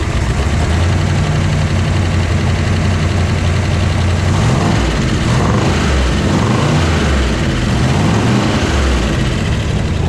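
A 1967 Chevrolet Corvette convertible with a 427 L71 V8 warms up, a loud, steady, deep engine rumble with a throbbing low idle that holds without pause throughout.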